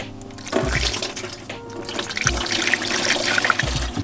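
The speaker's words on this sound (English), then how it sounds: "I'm pretty sure there's a hole in my coolant reservoir, my overflow reservoir, because if I put coolant in it," Coolant trickling from a cracked car overflow reservoir, soft close dribbling and splashing with a few heavier drips and muffled thumps, no talk.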